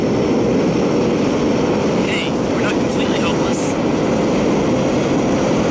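Engine drone of vintage pre-war fighter planes in the Vector Thrust flight game, a loud, steady roar filling the whole stretch beneath radio chatter from a voice.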